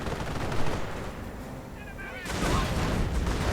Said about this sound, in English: Machine gun emplacement almost down.